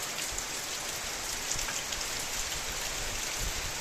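Steady morning rain patters down on surfaces at the Chatakpur forest bungalow, a dense even hiss with scattered droplet ticks throughout.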